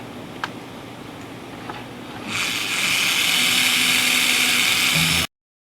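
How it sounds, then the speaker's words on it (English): A power drill drilling out wood on a Washburn acoustic guitar to install a Hipshot whirs into action after a quiet moment, holding a loud, steady high-pitched drone for a few seconds before cutting off abruptly. "just take it and drill out that little"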